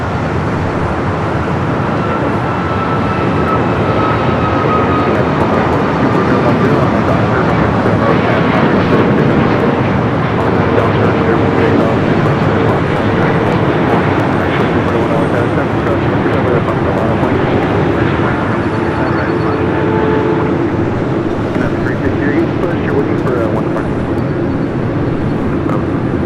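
A 14-year-old Air China Boeing 777-300ER arriving from Beijing at Los Angeles International Airport produces a loud, sustained jet roar with a faint rising whine, close and continuous, over background airport traffic.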